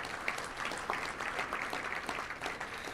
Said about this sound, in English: Let's give them a big round of applause for what they do.